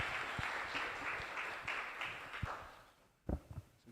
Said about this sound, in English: And finally, a big round of applause for Sophia.